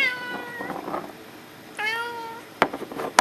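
A cat meows several times in a workshop setting, drawn-out cries with gaps between them, close and fairly loud, followed by a few sharp knocks near the end.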